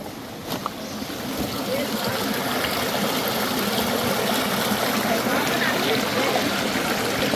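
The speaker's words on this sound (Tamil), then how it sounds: "தண்ணி வந்து இங்கே கிராஸ் பண்ணாமல் இதுக்குள்ளே பூமிக்கு கீழே போகுது" A mountain stream on Brahmagiri Hill, on the Kerala-Karnataka border, flows back out from underground with a constant, close rushing and burbling that holds steady throughout.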